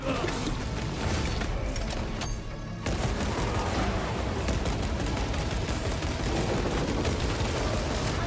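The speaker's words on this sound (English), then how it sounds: "Oh my god, he's shooting at me." Dense, sustained gunfire from enemies in the video game Space Marine 2, a loud continuous barrage of shots and mechanical clatter filling the whole stretch with only a brief dip partway through.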